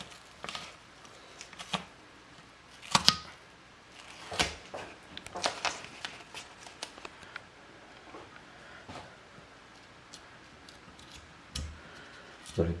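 A sharp razor blade in a holder scrapes paint off a wheel rim in a series of short, irregular scratchy strokes and clicks separated by quiet pauses, close by but fairly soft.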